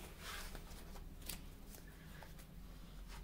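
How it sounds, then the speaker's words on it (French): Tarot cards being shuffled by hand, a steady soft riffling and flicking, faint and close with no talk. "on va aller faire le tirage de vie émotionnelle"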